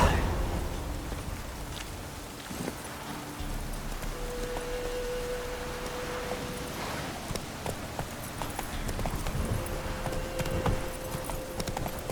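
Horse hooves clip-clop at a steady walking pace in The Witcher 3, fairly soft and close, with faint rain-like ambience and no talk.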